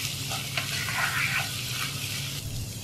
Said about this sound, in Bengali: সব মশলাগুলো অন্যান্য উপকরণের সাথে ভালোভাবে মিক্স করে দিচ্ছি।